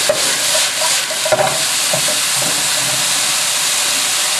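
Chicken and broccoli stir-fried with oyster sauce in a hot pan, giving a steady loud sizzle and hiss with scraping stirs and a few clattering knocks near the start.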